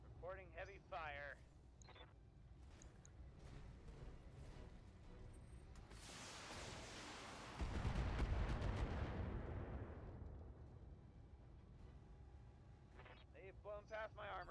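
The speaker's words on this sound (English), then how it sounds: "Reporting heavy fire." Heavy weapons fire in the Battletech game rolls in as a swelling, rumbling barrage that peaks midway and fades, with short bursts of radio chatter before and after.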